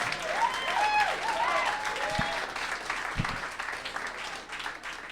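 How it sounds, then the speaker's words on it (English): Stand-up comedy club audience in New York gives a sustained round of applause, dense and steady, with a host's voice and a few whoops riding over the clapping early on. "Give another round of applause."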